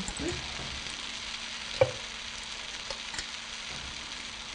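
Leeks, bean sprouts, prawns and noodles stir-frying in a pan, giving a steady low sizzle with faint scraping stir sounds and one brief clack, heard alone without talk.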